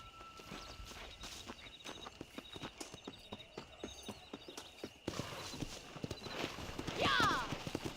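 Horse hooves clip-clop steadily on the ground in Red Dead Redemption, a close, rhythmic walking gait that quickens into a faster ride, with a brief whinny and voices near the end.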